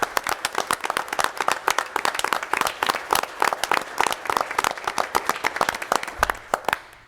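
A school board meeting audience applauds the first-ever state champion Knowledge Bowl team, sustained close, dense clapping from a modest crowd that continues for several seconds before tapering off.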